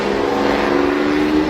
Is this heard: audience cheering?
no